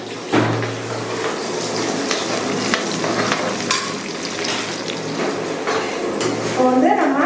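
Chopped garlic dropped into hot oil with crackled cumin, a loud close sizzle and frying hiss with utensil scrapes and clinks against the pan, continuous throughout.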